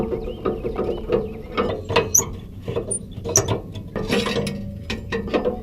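Metal clanks and rattles from a tow dolly behind an RV as its ramp pin is pulled and the ramp latch is undone, a close series of irregular mechanical clicks and knocks.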